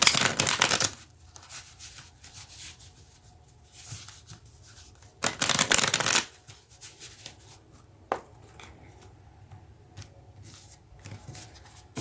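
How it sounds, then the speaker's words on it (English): Tarot cards are shuffled in short, crisp riffling bursts, close and fairly loud, separated by quieter handling sounds and pauses. "Now let's get a few cards."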